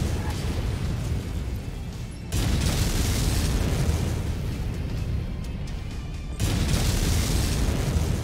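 LRM missile salvos pounding a target in Mechwarrior 5, a dense continuous rumble of explosions that surges louder twice, heavy and close throughout.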